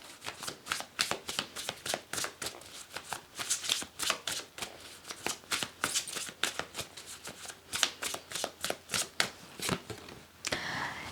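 Tarot cards shuffled by hand in a quick run of crisp riffles and flutters, close and fairly loud, repeating steadily with no talking.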